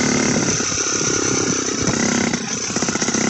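A turbo-build engine idles while warming up, with the choke now off. It gives a loud, continuous, uneven chugging rumble close by, with no talk over it.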